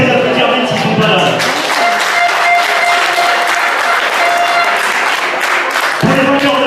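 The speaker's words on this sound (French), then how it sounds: "je pense qu'on peut les applaudir même s'ils ne sont pas là" An audience at a youth football tournament's prize ceremony breaks into loud, dense applause. The clapping swells and holds for several seconds, with crowd noise and a brief voice underneath.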